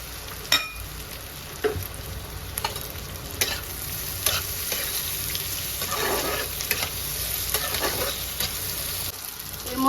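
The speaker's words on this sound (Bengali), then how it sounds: "এগুলো আমি একদম হালকা করে একটু ভেজে নেব একটা টমেটো আমি স্কোয়ার করে কেটে নিয়েছি টমেটোটাও দিয়ে দিলাম" Jackfruit and cubed tomato being lightly fried in a pan, a steady soft sizzle under repeated scraping stirs of a spoon against the pan, with no talking.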